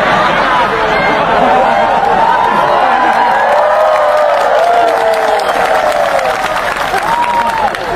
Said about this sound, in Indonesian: Kenapa kau tepuk tangan?